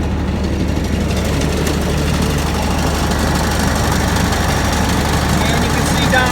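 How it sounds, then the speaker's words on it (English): The engine of a Kubota ZD326 zero-turn mower runs with the mower deck engaged. A loud, steady, close drone with a low rumble continues without a break, and no one talks. "So I'm going to go ahead and throw the mower deck in gear."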